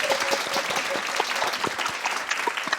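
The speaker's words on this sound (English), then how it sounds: "just give Sally a big round of applause" Online audience clapping for a stand-up comedian at a remote show: a thin scatter of hand claps from several unmuted participants, uneven and slightly compressed, continuing steadily without speech.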